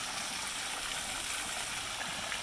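Waterfall at a serpentarium on Edisto Island, a steady, faint rushing and splashing of falling water that continues evenly without any voices.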